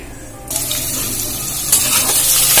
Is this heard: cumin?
yes